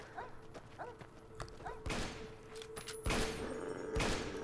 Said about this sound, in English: I thought she was shooting at that girl there